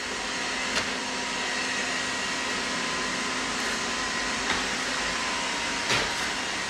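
A robot vacuum cleaner hums steadily as it climbs onto and runs across a rug, a constant whirring drone with a few brief knocks and bumps, close by and with no talking.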